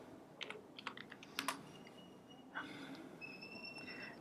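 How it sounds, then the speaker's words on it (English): Faint computer keyboard typing produces a few scattered keystroke clicks over a low background hum, with a soft tonal whine late on. "Just go in and type the URL www.iDelegate.biz."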